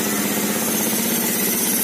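A motorcycle engine idles with its TPS sensor socket unplugged, a steady, close, loud low chugging rumble with an even rapid pulse and no voices.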